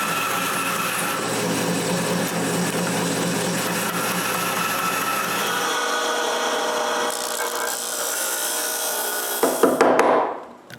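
Continuous abrasive rasping and sanding as wooden tripod legs are shaped, a steady rough scrape for most of the stretch that ends in a few brief knocks and clatters, with no talking.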